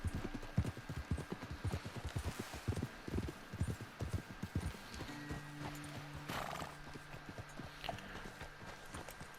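Horse hooves clip-clop in a steady walking rhythm in Red Dead Redemption 2, close and clear, with a whinny breaking in partway and a low droning hum carrying on beneath the later steps.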